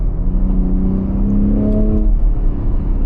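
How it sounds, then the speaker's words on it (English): Gen 3 Ford Raptor with a twin-turbo V6 and aftermarket exhaust in Baja mode, accelerating hard from inside the cab; a loud, steady engine roar with rising harmonic tones as revs climb, no talking. "definitely getting a good amount more noise with that exhaust in Baja mode here"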